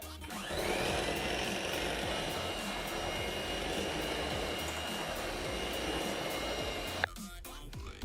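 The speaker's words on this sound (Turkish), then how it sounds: "kekimi çırptım" An electric mixer whisks cake batter with banana, baking powder and vanilla, giving a loud, steady, continuous whir close by. The motor cuts off abruptly near the end, leaving a few clinks.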